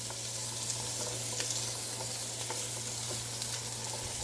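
Garlic sizzling in a Power XL StirMax multi-cooker: an even, close crackling fry with occasional small pops and stirring clicks over a steady low motor hum, no voices.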